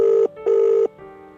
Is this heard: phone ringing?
yes